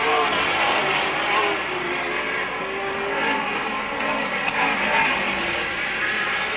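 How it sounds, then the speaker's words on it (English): Race cars circling a track at a 1999 MASCAR feature race, a steady roaring drone of engines with a slight rise and fall, heard from the stands with no clear talk. "So your race leader right now is the number 99 car of Greg Seward."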